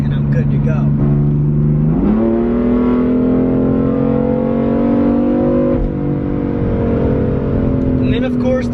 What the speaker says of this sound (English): This car accelerates like no other freaking car that I've ever driven